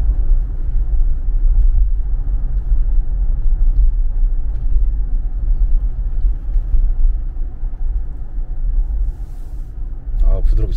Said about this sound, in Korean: 디젤 차가 엔진 소음도 이렇게 안 나요,